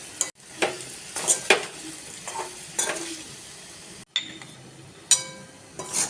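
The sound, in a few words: stirring spices into potato chips sabzi in a pan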